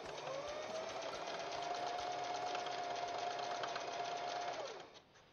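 A home sewing machine stitches quilt blocks in one steady, continuous whirring run, loud and close, then winds down and stops near the end with no talking.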